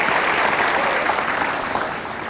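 Audience applause for Panji's mother in a television talk-show studio, a dense, steady wash of many hands clapping together, loud and sustained, tapering slightly toward the end.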